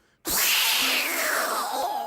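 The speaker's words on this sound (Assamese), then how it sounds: "এই মেকুৰীয়া কান্দা বেয়া অ" A cat gives one long, drawn-out, wailing meow that starts suddenly and falls slowly in pitch, loud and close against a quiet room.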